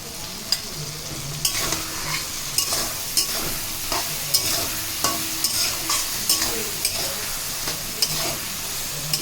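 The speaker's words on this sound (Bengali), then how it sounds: "কিছুক্ষণ এইভাবে তেলের সাথে নেড়ে চেড়ে নেওয়ার পর" Lotis fry in oil with poppy-mustard paste, green chilli, salt and turmeric: a steady sizzle is punctuated by regular scraping clacks of a spatula against the pan, close and clear with no talk.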